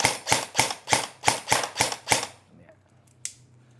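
Eight evenly spaced single shots from an electric airsoft gun on semi-auto ring out close and crisp, followed by quiet and one faint click near the end.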